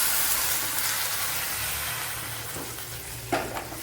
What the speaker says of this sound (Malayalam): അതിലേക്ക് തൈര് ഒഴിച്ചു കൊടുക്കാം.